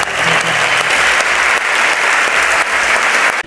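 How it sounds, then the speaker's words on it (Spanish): An audience at a Natural Classic 2023 bodybuilding event bursts into loud, sustained applause that continues steadily before cutting off abruptly. "Así que sí me gustaría un aplauso para vosotros"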